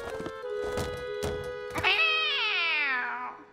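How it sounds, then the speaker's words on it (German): Kittens meow in a cartoon scene: a few short thumps and mews at first, then one long, loud, drawn-out meow that rises and slowly falls away, over a steady tone. "Das sind Kätzchen."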